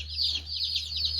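Baby chicks cheeping in a rapid run of high, wavering peeps over a low steady hum, close and fairly quiet.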